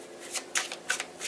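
Tarot cards are shuffled by hand, giving a few quick, close riffling bursts in an uneven rhythm with no talking.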